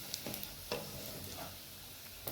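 Onions frying in a pan for pilau, browning slowly: a steady, faint sizzle with a few soft stirring scrapes and taps, no talking.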